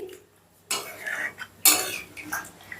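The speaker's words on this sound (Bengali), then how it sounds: "চিকেনটা একটু নেড়ে চেড়ে মিশিয়ে দিচ্ছি" Chicken in a pot of gravy is stirred with a metal spoon, two bursts of scraping and sloshing after a quiet start, ending with a light clink, with no talking.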